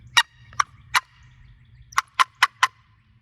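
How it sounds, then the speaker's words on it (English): A wooden box call is struck to make turkey clucks, seven sharp, close, loud clucks in two uneven groups with short gaps between. "this is the way I cluck on my call"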